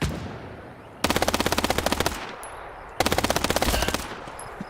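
Two loud bursts of rapid automatic gunfire in the Vietnam-era shooter Hell Let Loose, each lasting about a second and a half and separated by a short lull, with no talking.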